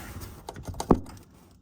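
Plastic cap pressed onto a 2014 Acadia Traverse Enclave headlight housing, a few quick close clicks and taps ending in one sharper snap, then quiet.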